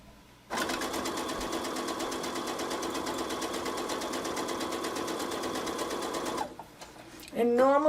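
A sewing machine stitching machine appliqué runs in a steady, fast, even whir of needle strokes for about six seconds, then stops with light handling clicks as a person begins speaking.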